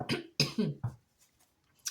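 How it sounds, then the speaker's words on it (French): Three quick, close coughs in a row, followed by faint throat sounds and a short breath. "Je voudrais essayer de ne pas tousser"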